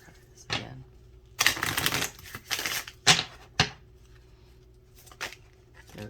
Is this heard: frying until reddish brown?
no